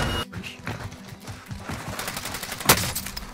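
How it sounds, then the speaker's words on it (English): Gunfire from the Warzone video game crackles in rapid, near bursts with one sharp louder shot toward the end, over a busy mix of game action sound. "They're shooting at me."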